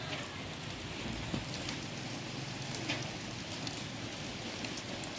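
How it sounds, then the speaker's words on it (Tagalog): Heavy rain falls steadily on potted plants and surfaces outside an unfinished house in Mindanao, a dense even hiss with scattered closer drops. "Oh, grabe talaga yung ulan guys."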